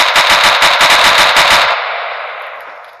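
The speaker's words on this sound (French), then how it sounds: "là, c'est de la grosse mitraillette." A video game RPK machine gun in a Minecraft gun mod fires a rapid, loud burst for under two seconds, then the echo fades away.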